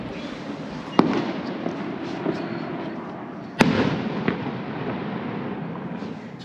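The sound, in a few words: fireworks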